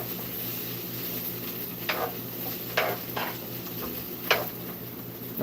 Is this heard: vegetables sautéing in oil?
yes